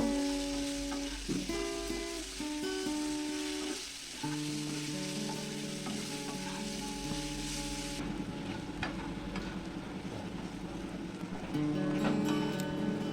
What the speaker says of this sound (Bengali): নুন হলুদ দিয়ে আলুগুলোকে বেশ লাল লাল করে ভেজে নেব।